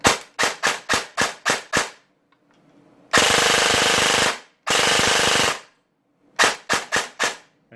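An airsoft gun firing in short rapid bursts of sharp snapping shots, with two longer sustained rattling strings of fire between them, loud and close with silent gaps.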